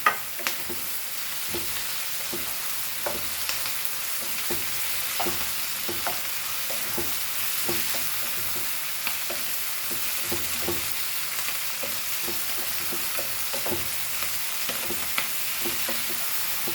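Tomato sizzling steadily in a hot frying pan over a high flame while being stirred, with an even hiss throughout and irregular scraping and knocking from the spoon.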